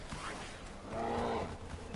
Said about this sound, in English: Oh no, it's the bear.